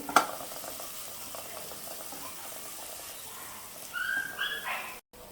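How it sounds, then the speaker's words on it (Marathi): Coriander powder, turmeric and garam masala being mixed in a pan for palak paneer, a quiet steady sizzle with light stirring, then a brief clatter and scrape near the end before a cut. "धणा पावडर हळद आणि गरम मसाला मिक्स करून घेते चांगले"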